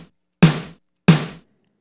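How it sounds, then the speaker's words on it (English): Snare drum sample struck twice, each a crisp, bright crack with a short rattling decay, spaced about two thirds of a second apart, close and dry against silence. "I'll grab my snare drum sample sound down here, which sounds like this."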